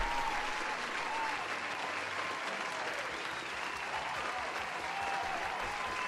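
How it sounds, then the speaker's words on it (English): Small audience applause on a homebrew review show, steady dense clapping at moderate level that fills the whole stretch without a break. "Let's give you a little round of applause."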